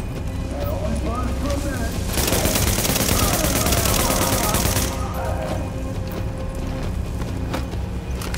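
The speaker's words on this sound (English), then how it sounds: "So, that shooting, that was you, right?" Gunfire in The Division video game on the streets of lower Manhattan, a dense burst of rapid shots lasting a few seconds over a continuous game soundscape, with voices speaking around it.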